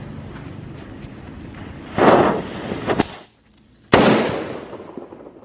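A Happy Flower sakura firework is lit and bursts into a loud hissing, crackling spray with a sharp whistling streak, pauses briefly, then erupts again in a second strong hissing burst, close by.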